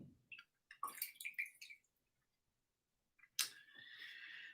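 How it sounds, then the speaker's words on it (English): Rinse water from wetting a paper filter in a Chemex coffee brewer is poured out, a run of splashy trickles and drips followed by a steadier pouring gush, close and fairly quiet. "And then we dump this water out."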